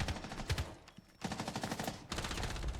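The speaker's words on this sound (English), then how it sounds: "He's shooting, so I peek." Rapid automatic gunfire in Rainbow Six Siege, loud and close, in dense rattling bursts with a short pause before the firing resumes.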